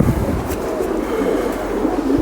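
Low, soft cooing of a female Bateri pigeon, a Sialkoti breed, kept indoors in a loft, murmuring continuously and close up with faint background noise.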